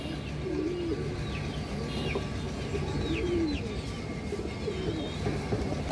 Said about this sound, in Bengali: ক্রিম চোখের কবুতর, হাই ফ্লায়ার কবুতর।